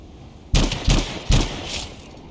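Sniper rifle fire in the video game Anthem: three loud, sharp shots spaced roughly evenly, each followed by a short ringing decay, with no talking.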